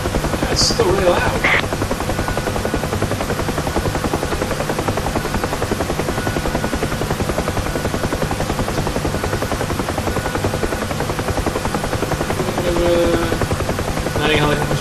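A helicopter in the flight simulator game Digital Combat Simulator, coming in to land: steady rotor thrum and engine drone run throughout, loud and constant, with a couple of brief clicks near the start.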